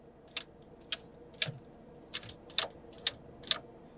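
Seven sharp plastic clicks from swiveling air conditioning vents in a 2020 Mercedes-Benz GLC Coupe, spaced about half a second apart, close up, with a quiet hum underneath and no talking.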